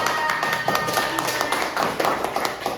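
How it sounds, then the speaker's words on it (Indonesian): A classroom of students claps for a classmate, with many hands beating in quick, uneven, continuous applause, fairly close and loud, while a voice speaks over it. "Oke, tepuk tangan untuk Gibran."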